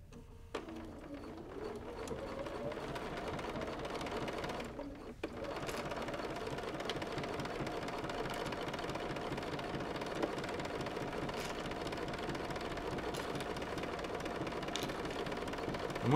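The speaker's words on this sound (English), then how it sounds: "start to use the hand crank until we really get in that corner there" A sewing machine turned by hand crank binds a quilt with a stitch-in-the-ditch foot, a steady mechanical whirring and clicking that runs almost continuously, pausing briefly once near the start and again around five seconds.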